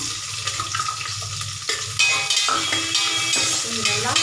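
Onions sautéing in a pan with fennel seeds and curry leaves for a goat head curry, giving a steady close sizzle with stirring scrapes throughout, with a brief louder clatter partway through.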